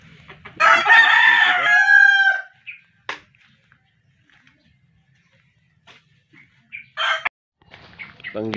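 Roosters in Mindanao crow loudly and near, one long cock-a-doodle-doo at the start followed by quieter scattered clucks and a second shorter crow later, with no talk over them.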